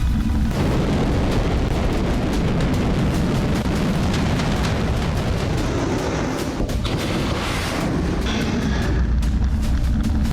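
Loud, sustained rumbling blasts and booms from a North Korean strategic cruise missile test striking its target, a dense continuous roar with overlapping detonations and no pauses throughout.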